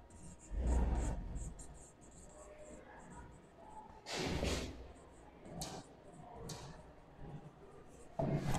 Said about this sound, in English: I will write a sentence on the board